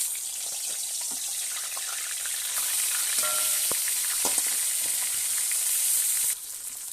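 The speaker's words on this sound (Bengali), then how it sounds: "তেল গরম হয়ে গেছে, এবার মাছগুলোকে দিয়ে দেবো" Koi fish rubbed with salt and turmeric fry in hot mustard oil, giving a continuous crackling sizzle with scattered pops that holds steady for several seconds, then softens slightly near the end.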